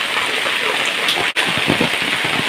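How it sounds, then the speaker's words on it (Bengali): Heavy monsoon rain pouring steadily in a village, a dense continuous hiss of downpour on surfaces, close and loud, with a brief dip partway through. "সকাল থেকে প্রচুর বৃষ্টি"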